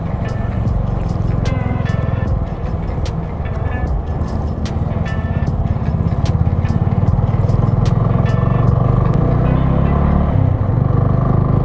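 A TVS Apache motorcycle loaded with luggage rides a mountain road toward Zoji La, its engine a steady loud rumble under heavy wind and road noise, with faint scraping clicks throughout.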